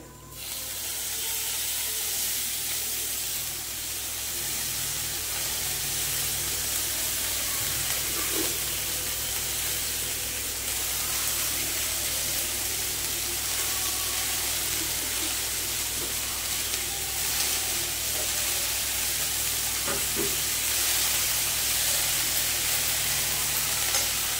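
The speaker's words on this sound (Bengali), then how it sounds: "এবারে আমি এই শাকগুলো এর ভেতর দিয়ে কষে নেব।" Greens stirred into cooked lentils in a hot pan give a steady, close sizzle and hiss of frying with faint stirring scrapes throughout, with no voices.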